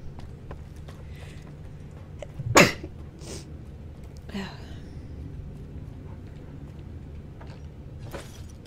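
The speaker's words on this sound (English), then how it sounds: "have to sneeze." A person sneezes once, loud and close, with a sharp burst of breath in a quiet room over a faint steady hum, followed by a few softer breathy sounds and small noises.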